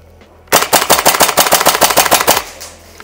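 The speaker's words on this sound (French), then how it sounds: "on reprend le Saiga, on met le chargeur, on arme et c'est parti" Tokyo Marui Saiga 12K airsoft shotgun replica firing semi-automatic in a rapid burst of about fifteen sharp, loud, evenly spaced shots lasting two seconds, with no talk.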